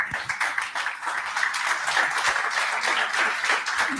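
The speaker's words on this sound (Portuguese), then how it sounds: "aplaudo a Jesus." A church congregation breaks into sustained applause, with dense, continuous clapping from many hands that holds steady for several seconds with no clear pause.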